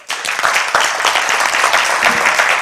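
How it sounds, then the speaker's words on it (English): An audience applauds at a teaching session: dense, steady hand clapping that swells quickly and stays loud and even throughout, with no speech over it. "Give him a hand clap."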